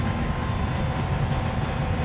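A simulated diesel train engine in Trainz Railroad Simulator 2019 on the Edinburgh to Dundee line drones in a loud, steady, low rumble as it steps up a gear, without voices.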